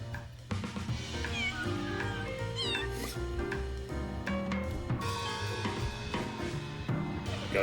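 A cat meows and yowls repeatedly in a game trailer, several shrill, frantic cries over busy music and effects that carry on throughout.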